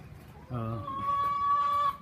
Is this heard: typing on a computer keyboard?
no